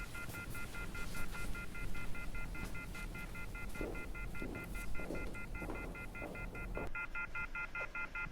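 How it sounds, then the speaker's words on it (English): A telephone left off the hook emits a steady electronic tone with stacked sustained pitches over a low hum and faint background noise, holding constant throughout and without any speech. "Sounds like the telephone is off the hook."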